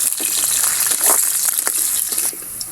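Loud, steady sizzling of potatoes frying in hot oil, a bright hiss with occasional pops and crackles, close up.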